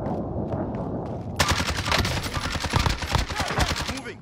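Automatic gunfire in a Call of Duty Warzone duos match, starting as quieter distant shots, then breaking into loud, rapid close-range bursts that rattle on for several seconds.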